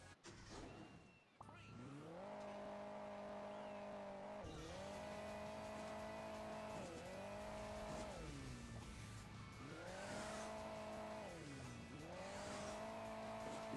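A car engine in the mobile game Hill Climb Racing 2 revs up and down in repeated rising and falling whines, with engine pitch changing as the vehicle accelerates over terrain.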